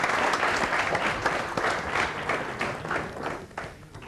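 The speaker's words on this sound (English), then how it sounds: "Let's have another round of applause for him" Audience applause for a contestant on a demonstration-based science quiz show, a full round of clapping that starts strong and gradually tapers off, moderately loud with no talk over it.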